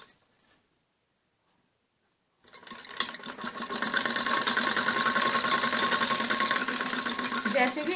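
After a short silence, a sewing machine starts up and runs continuously, whirring steadily close by while piping is stitched onto the back neck of a kameez.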